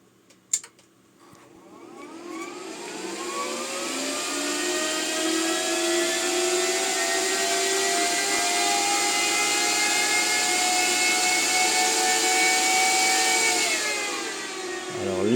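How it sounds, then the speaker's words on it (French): Cooling fans of a home-built silent BTC miner with a modified power supply spin up to full speed, rising into a loud, steady whirring whine that holds for many seconds before starting to slow at the end. "les ventilateurs se sont lancés au maximum"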